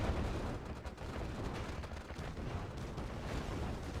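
Oil derrick blowing up and wiping out a group of GI infantry in Red Alert 2, a dense, rumbling blast of explosive noise with crackling bursts that stays loud and continuous for several seconds, no voices over it.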